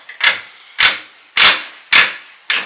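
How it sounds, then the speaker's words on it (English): A hammer tapping a universal joint on a 2002 GMC 3500 pickup, five crisp metallic knocks at an even pace of roughly one every half second, close and clear with no talk. "just kind of lightly persuade it with the hammer"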